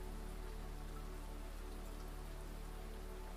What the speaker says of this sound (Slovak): Len čakaj na dážď.